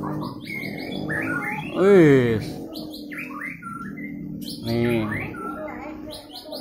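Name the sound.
white-rumped shama (murai batu) singing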